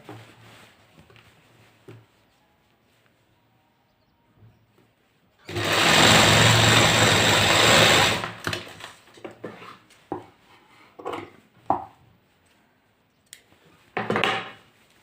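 Sewing machine stitching a pocket onto a pyjama, a loud continuous whirring run of about three seconds, framed by quieter handling clicks and cloth rustles before and after.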